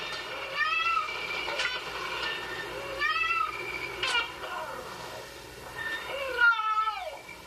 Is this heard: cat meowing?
yes